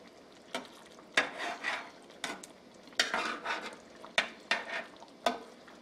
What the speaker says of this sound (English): Don't stir too hard so you don't break your fish.